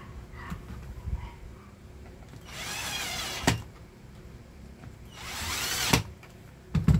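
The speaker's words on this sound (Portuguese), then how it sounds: "vamos colocar primeiro esses parafusos aqui de trás" A power screwdriver driving screws into the casing of a clothes iron, two sustained whirring bursts of about a second each, close by, ending in short clicks and handling knocks amid quiet room sound.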